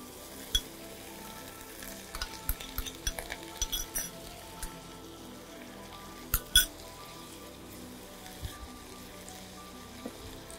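Prawns and green chilli fry in a pan, giving a steady low sizzle punctuated by scattered clinks and scrapes of a utensil stirring against the pan.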